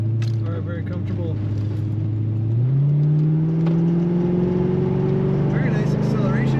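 A 1990 Chevrolet Corvette coupe with an automatic transmission accelerates from inside the cabin, its engine note climbing steadily, shifting up once midway and rising again as a loud, continuous hum.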